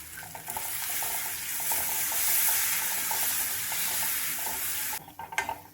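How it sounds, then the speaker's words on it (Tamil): Grated raw mango sautéing in a pan on a low flame, giving a steady, even sizzle and hiss close up, with a few stirring clatters near the end. "அடுப்பை சிம்மில் வச்சு கிளறி கொடுத்துக்கலாம்."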